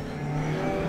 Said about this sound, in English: And at the end here, an Opel Manta Coupe.